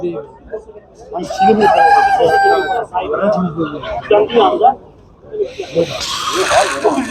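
Roosters crow nearby, with a long crow near the start, amid people talking and general market noise at a poultry market in Tuzla, Istanbul.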